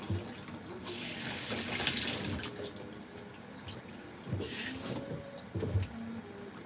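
Running water from a tap rinses shampoo out of hair at a sink, a steady close splashing stream with louder surges and gurgles as the hair is worked under it.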